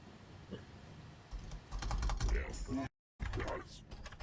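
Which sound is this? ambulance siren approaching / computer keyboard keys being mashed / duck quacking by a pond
computer keyboard keys being mashed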